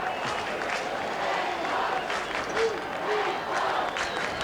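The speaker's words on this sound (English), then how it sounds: "the Alberton crowd absolutely erupt" A football crowd at Alberton roaring after a goal in a 1997 Port Adelaide versus Central District match, a steady broad swell of cheering and clapping with a commentator's voice underneath.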